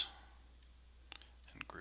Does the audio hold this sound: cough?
no